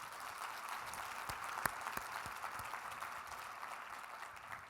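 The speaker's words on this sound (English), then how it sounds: "Could we have a round of applause for them, please?" Conference attendees applaud the event staff at the CEP2019 opening session, a soft, somewhat distant bed of clapping with a few sharper individual claps standing out near the front.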